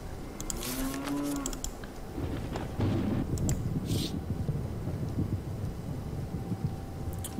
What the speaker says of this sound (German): Na, dann muss ich wohl noch ein paar Kühe erledigen.